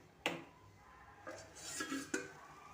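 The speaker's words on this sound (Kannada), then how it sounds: "ಇವಾಗ ಎಲ್ಲ ಮಿಕ್ಸ್ ಮಾಡಿದ ನಂತರ 2 ನಿಮಿಷ ಒಂದು ಪ್ಲೇಟ್ ಮುಚ್ಚಿ ಬಿಡ್ತಾಯಿದ್ದೀನಿ" A plate set down over a pan of chow chow bath, giving a sharp clatter of metal and ceramic followed by softer scraping and a second knock, close and fairly faint, with no talking.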